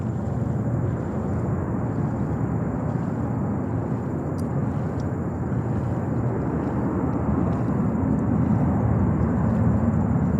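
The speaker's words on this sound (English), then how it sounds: "And Brussels 330-300 just landed" Brussels Airlines Airbus A330-300 airliner landing at JFK airport in New York, a steady, loud broadband jet roar with low rumble held throughout, with no voices.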